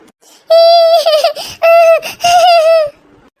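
Children cry loudly in a family drama scene, with high wailing sobs in three long bursts separated by brief catches of breath.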